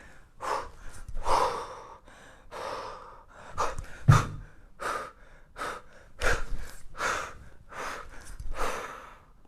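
Heavy, forceful exhales and gasping breaths come in a steady rhythm during kettlebell long cycle lifts, loud and close, about a dozen breaths with a brief metallic clink midway.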